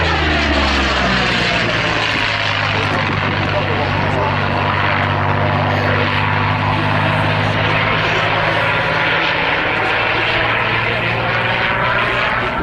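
A WWII-era propeller fighter passes at an air show, its engine a loud, continuous droning roar with steady harmonic tones that shift as it flies by, while an announcer talks over it throughout.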